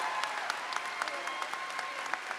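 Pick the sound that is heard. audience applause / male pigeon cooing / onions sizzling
audience applause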